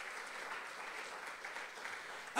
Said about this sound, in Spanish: Le damos aplausos a Él